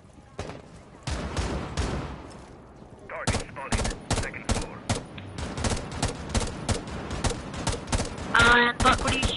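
Repeated gunfire from Rainbow Six Siege, sharp bursts and single shots firing in quick irregular rhythm, loud and close, continuing through the whole stretch with a brief mechanical rattle near the end.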